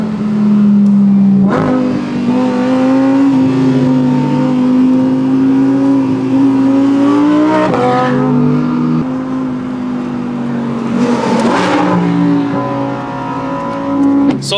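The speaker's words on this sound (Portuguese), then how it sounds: "E agora consigo perceber o que é que as pessoas ouvem quando o meu carro está a passar. É um estrondo deste motor." A supercar engine roars loudly and continuously while driving in a convoy of cars to a track, its revs rising and falling with a couple of gear-change surges, close and dominant.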